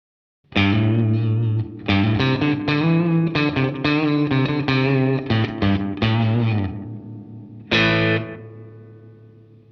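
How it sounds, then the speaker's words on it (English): Distorted electric guitar through a Moonstruck analog delay pedal with a short slapback delay and spring reverb mixed in: busy picked phrases with quick echoes, then a final struck chord left to ring and decay. "And here's a short slapback style delay with some spring reverb mixed in."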